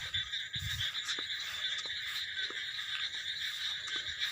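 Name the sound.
insect calling in a flooded paddy field, locally called kuruttu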